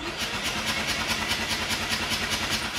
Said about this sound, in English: Let's go ahead and crank it and see if the system will charge.